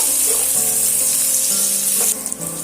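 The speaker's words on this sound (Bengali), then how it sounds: "তেলের মধ্যে অ্যাড করে দিয়ে পেঁয়াজটা আমি সুন্দর করে লাল লাল করে ভাজা করে নেব" Sliced onion fries in hot oil in a pan for a Bengali doi potol dish, giving a loud, close, steady sizzle that drops in intensity near the end.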